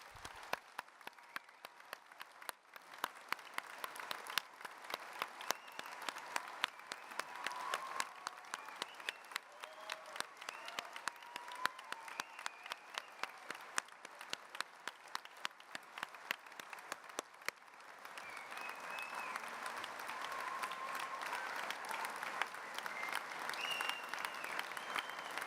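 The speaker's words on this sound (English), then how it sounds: "let's start today's ceremony by giving all our amazing graduates a huge round of applause" Graduates at a Cardiff Open University degree ceremony receive a long round of applause from the hall, steady dense clapping sustained throughout, fairly distant and soft, with no speech.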